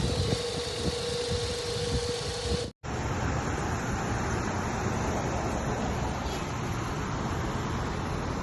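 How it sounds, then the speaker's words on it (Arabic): A car engine runs steadily at idle with a newly replaced belt, a continuous mechanical hum with fan-like noise, loud and close, briefly cut off before resuming without any talk. "هذا هو صوت الماكينة، السير جديد مغيره."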